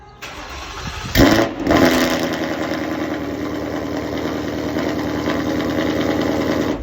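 A Ford Mustang GT with aftermarket headers starts with a sharp crank and bark, then settles into a loud, steady, rumbling idle heard close by.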